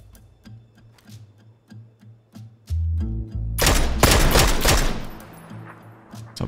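Gunshots in the PUBG video game, with a few faint distant shots over ticking and a low hum, then a sudden loud close burst of rapid gunfire that fades away.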